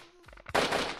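A single sharp gunshot blast in the video game Hand Simulator bursts out after a few brief clicks, followed by a sustained noisy rumble, loud and close.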